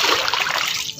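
Water is poured and splashes continuously, a close, loud trickling and spattering stream that fills the short moment without pause.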